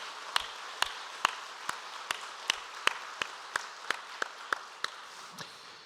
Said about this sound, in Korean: 우리 하나님께 영광과 감사의 박수 올려드리겠습니다